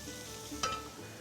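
Mushrooms fry in a hot pan over high heat, a soft sizzle with a short clattering stir midway, quiet and brief with no speech.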